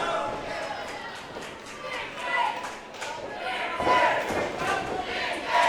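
A wrestling crowd in Birmingham cheers and roars at a tournament event, a loud, swelling mass of voices that rises in waves, with scattered shouts and a thud or two beneath.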